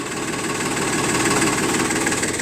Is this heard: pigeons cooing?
no